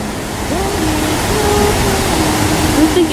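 A steady, loud rush of water pouring over rocks at Duchesnay Falls in North Bay, Ontario fills the whole clip, with a faint voice-like tone drifting underneath.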